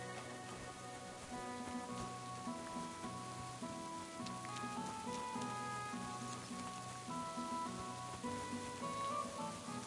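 Steady rain falls in Kingdom Come: Deliverance II, a dense continuous patter heard alone at an even level, with game music or ambient tones faintly underneath.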